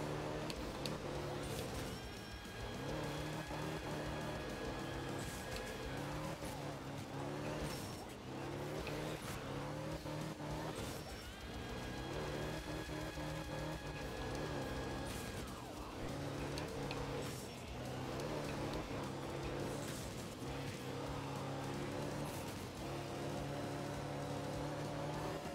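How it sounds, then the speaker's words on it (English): Rally car engine in the racing game art of rally, Finland Group A stage, revving hard and climbing toward high RPM, a loud continuous buzzing drone that rises and falls with gear changes, with a voice speaking over it. "This car groans up to its max RPM."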